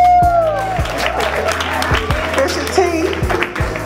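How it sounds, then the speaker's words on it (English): Applause from an audience at a church program honouring a radio personality, with clapping mixed under music, organ-like tones and crowd noise throughout. "Come on, y'all, give Miss T a round of applause."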